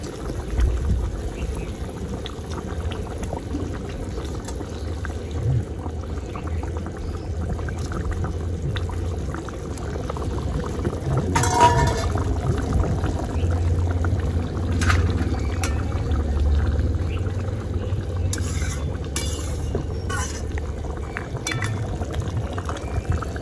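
Pangas fish pieces dropped one by one into simmering oily kalia curry gravy in a pan, giving a steady low bubbling sizzle with a brief splashy burst midway and continuous close kitchen noise.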